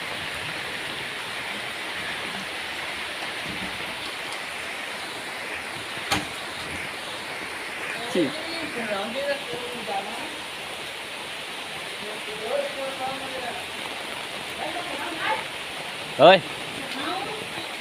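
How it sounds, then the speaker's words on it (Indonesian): Rain pours steadily as a broad, even hiss over the village of Kampung Citerep, with a few people speaking briefly over the downpour. "hujan anjir."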